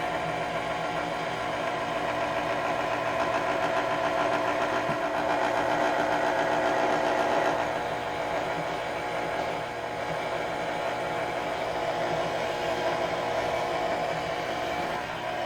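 An electric pasta machine rolling fettuccine dough at low speed gives a steady close mechanical whir with a faint rhythmic rattle, holding even throughout with no voices.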